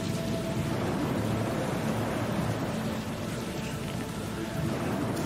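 Steady, loud rain pours down in the video game Dead Age, a dense continuous hiss of drops on surfaces that fills the whole stretch without a break or any voices.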